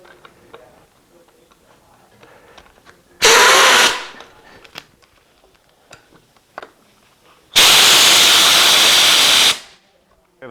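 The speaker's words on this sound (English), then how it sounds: "Screw the bolts into the rods." A loud power tool screws bolts into custom rods for saddle stirrups in a ranch workshop, in two long whirring bursts of about one and two seconds. Quieter clicks and handling noises fill the gaps between them.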